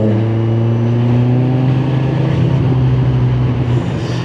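A car accelerating through London traffic to draw alongside a BMW, a loud steady engine drone with rising low tones heard from inside the vehicle, with no speech.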